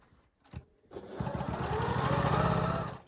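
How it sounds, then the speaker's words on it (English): After a couple of short bursts, a sewing machine runs steadily, loud and close, with a fast rhythmic mechanical chatter as it stitches quilt rows together. "we're going to put row 5 on top of this and we're going to stitch that along"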